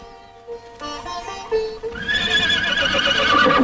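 A horse neighing loudly and close, a long shrill whinny that rises and wavers, preceded by softer snorts and faint hoof clip-clops.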